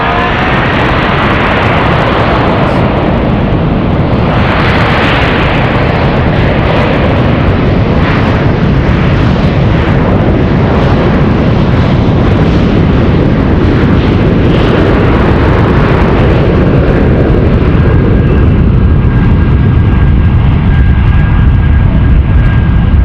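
An American Airlines jet departs San Francisco airport with a loud, sustained roar that holds steady and rumbles heavily across the whole stretch, heard from a distance outdoors.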